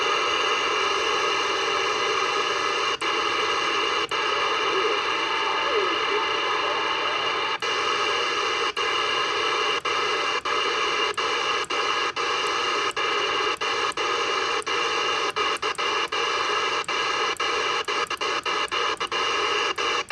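Steady hiss of CB radio static on channel 9 from a Road King CB radio with a Wilson W500, with faint, garbled transmission underneath and occasional sharp clicks and crackles, continuous throughout.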